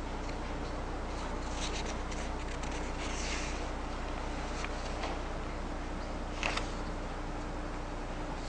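Faint scratching of a pen across paper, soft and intermittent beneath steady room hiss, with a few slightly sharper strokes near the end.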